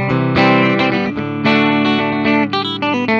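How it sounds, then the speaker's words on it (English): A 1978 Gibson The SG electric guitar on its middle pickup rings out in loud, chiming strummed chords with a slight effects sheen, several strums sustaining across a few seconds with no talking. "Middle pickup has a great chime to it as well."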